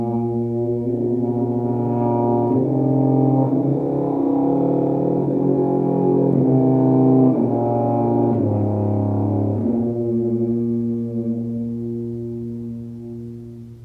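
A tuba played while the player sings into it, producing a sustained buzzing, droning brass tone with shifting pitches over about ten seconds, then the singing stops and the tone fades away. No one talks.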